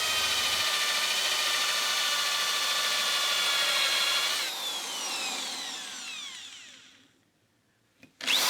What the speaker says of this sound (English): So I now have to mark up this board and drill a load of holes.